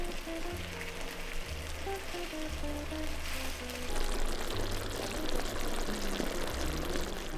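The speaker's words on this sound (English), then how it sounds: "Now pour in that sauce we made earlier and cook for 2 to 3 minutes, stirring often until the chicken is coated and that sauce thickens." Bourbon sauce pours into a pan of frying chicken pieces, a continuous close sizzle and pouring hiss under soft background music, no talk.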